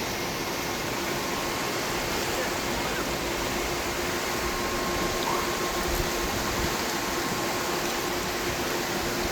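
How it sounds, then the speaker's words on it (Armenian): Swollen Pamback river rushing in flood, a steady broadband roar of fast water heard continuously at moderate distance with little variation and no voices. "Տեսեք, գետը ինչ վարար է։"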